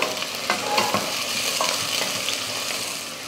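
Onion, green chilies, cardamom, cinnamon, cloves and bay leaf sauté in a pan for hotel-style veg kurma: a close, steady sizzle broken by soft scraping stirs.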